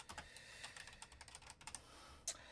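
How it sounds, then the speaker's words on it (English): Rapid typing on a computer keyboard, a quick run of light, close clicks with a brief pause and a sharper keystroke near the end. "I was typing up kind of fast"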